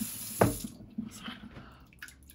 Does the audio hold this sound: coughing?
no